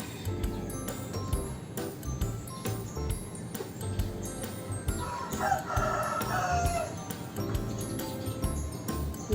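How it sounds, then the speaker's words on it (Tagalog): Roosters crow and chickens cluck in the background near a homemade smokehouse, under a steady, busy wash of outdoor and cooking noise, with a crowing phrase rising clearly in the middle. "Daming manok sa aking likuran."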